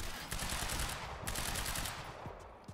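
Rapid automatic gunfire rattles in dense bursts during a firefight in the Quantum Break video game, sustained over a few seconds and fairly quiet.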